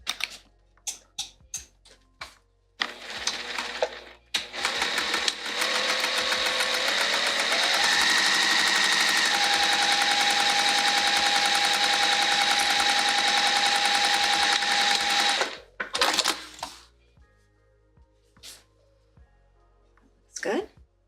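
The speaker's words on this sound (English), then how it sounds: "Let's sew right across that edge." A sewing machine stitches across the edge of a Fogerty bag in one long, steady, fast whirring run of about ten seconds, close and loud, with a voice talking before and after.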